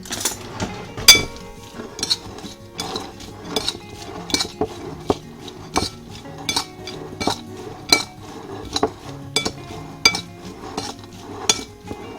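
A metal spoon clinks repeatedly against dishes and a tray while roasted pumpkin seeds are seasoned with salt and everything bagel seasoning, giving sharp, irregular close taps with no talking.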